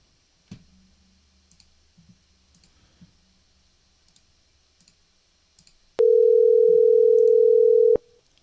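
A phone call being placed: a few faint clicks and ticks on the line, then a loud, steady two-second electronic tone sounds before an automated voicemail system answers.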